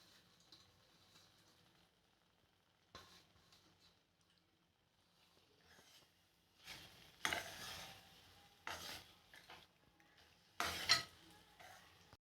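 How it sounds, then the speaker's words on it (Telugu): A thickening sago and jaggery laddu mixture is stirred slowly in a pan, giving a faint, soft scraping with a few louder, brief bursts of stirring and sizzle toward the end, with no talking. "దగ్గరకు అయ్యేంతవరకు మెల్లిగా కలుపుకుంటూ అడుగంటకుండా తయారు చేసుకోవాలి"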